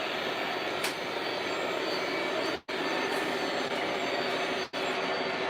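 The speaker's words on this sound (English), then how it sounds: "I'm trying to run this MTH engine with my iPad over here." An MTH model train engine runs steadily on its track in a model railroad layout, a continuous close rumbling whir with two brief dropouts, no talking.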